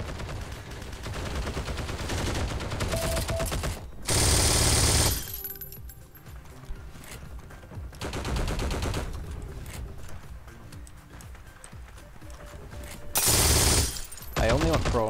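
Rapid bursts of MG42 machine gun fire in the World War II shooter game Heroes and Generals, loud close volleys around 4 and 13 seconds, with scattered gunshots and battle noise between them and someone talking over it.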